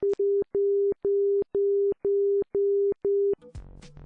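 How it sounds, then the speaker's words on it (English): An ILS marker beacon receiver sounds its low audio tone as evenly spaced Morse dashes, about two per second, loud and steady, then cuts off into a brief burst of noise. "It also produces an audio signal, which is 2 Morse code dashes per second at a low tone."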